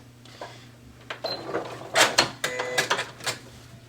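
A sewing machine runs overcast stitches along a fabric edge while a CD pouch is made, sounding as short mechanical whirring bursts that start and stop and grow louder toward the end.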